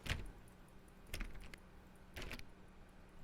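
Button clicks in The Stanley Parable come in three quick clustered bursts of sharp clicking with short gaps between them, quiet and close over a faint steady background hum.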